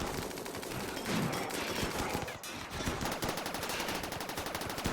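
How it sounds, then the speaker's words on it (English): Gunfire from a firefight in the video game Rimworld, a dense, continuous stream of rapid small-arms shots, steady and moderately loud, heard alone without talk. "Still going, still shooting."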